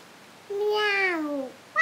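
A single drawn-out cat meow rising then falling, close and clear in a quiet room, followed by the start of another short meow.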